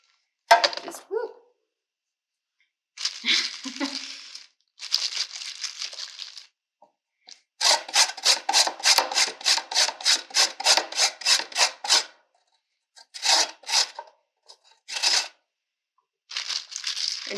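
Carrots are grated by hand on a kitchen grater for a Hawaiian macaroni salad. Bursts of rasping strokes come close and loud, including a fast rhythmic run of about a dozen even scrapes, separated by silent gaps.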